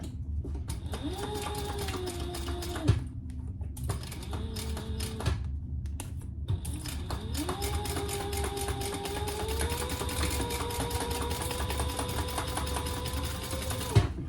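A sewing machine stitches a quarter-inch seam through fabric for a sling bag, running in close bursts: a brief run, a short second burst, then one long steady stretch of motor whir and needle clatter.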